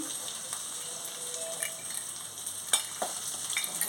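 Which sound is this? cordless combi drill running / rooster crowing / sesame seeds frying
sesame seeds frying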